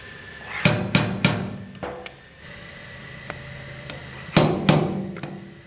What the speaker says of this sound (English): I'll tap down with the hammer a little bit of a crown that's around that dent